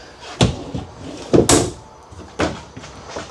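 Several wooden drawers or cabinet doors of an Alliance Paradigm 395DS RV open and shut in turn, non-soft-closing, each a sharp thud or slide, about four distinct knocks spread over a few seconds.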